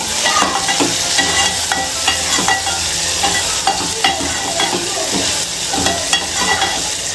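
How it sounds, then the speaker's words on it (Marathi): Chopped onion and tomato sautéing in a pot over a raised gas flame, a loud continuous sizzle with repeated scrapes and clicks of stirring. "आता आपण गॅसची फ्लेम वाढूया आणि हे छान असं आपण परतून घेऊया"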